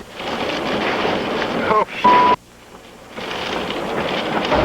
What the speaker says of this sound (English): the water's just whipping up, the wind is whipping up, the surf is just coming right across the front of our car